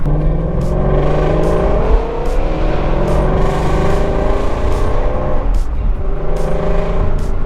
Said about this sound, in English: I love the sound and the spool of this supercharger. It sounds amazing.